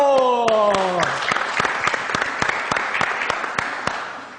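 Audience applauding a doctor introduced as a labor and export specialist at a Brazilian speaking event, with dense, steady clapping from a room of people that carries on for several seconds as a voice speaks over the start.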